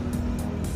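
Traffic on the Cansaga Bridge in Cebu, with large vehicles and trucks moving past as a low, continuous rumble of engines and tires, fairly faint and without talk.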